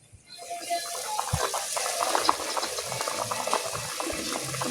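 Four glasses of hot water with chicken broth come to a rolling boil in a pot for chicken biryani, giving a steady, close bubbling and seething hiss that continues evenly throughout.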